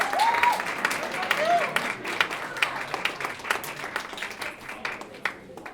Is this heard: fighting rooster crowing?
no